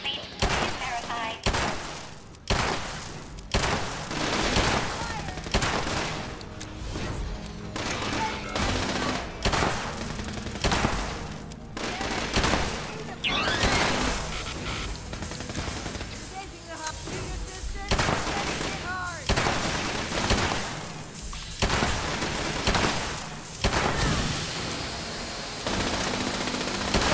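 Rapid bursts of gunfire from the video game Fallout 76, with dense automatic fire and repeated shots crackling loudly through most of the stretch, mixed with game effects and occasional voices underneath.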